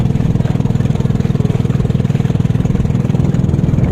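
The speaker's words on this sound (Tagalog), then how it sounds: "Ito yung motor, yung bangka namin" Outboard motor of a small fishing boat on a shallow coast at low tide, running in a steady, fast-pulsing drone that stays close and loud throughout.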